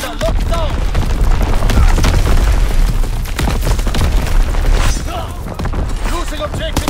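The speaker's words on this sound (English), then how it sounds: "Incoming enemy artillery! Get to cover!" Artillery shells and explosions in Call of Duty: WWII online multiplayer, repeated heavy booms and gunfire crowding a loud, continuous battle mix, with shouted voice callouts over the top.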